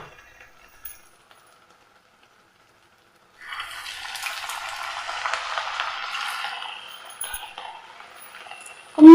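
A semolina and coconut snack fries in hot oil: after a quiet start, a soft, steady sizzle rises and continues to the end, where a brief knock sounds.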